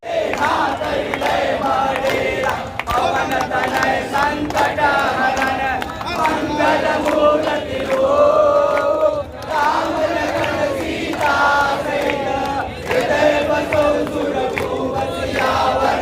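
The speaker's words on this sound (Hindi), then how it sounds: "जिंदाबाद के नारे लग रहे हैं" A large Hindu rally crowd of thousands chants slogans in unison, loud and continuous, with rhythmic shouted phrases rising and falling over a dense roar of voices outdoors.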